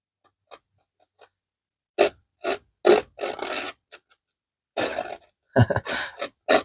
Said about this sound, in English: You can scrape in some wood grain like that.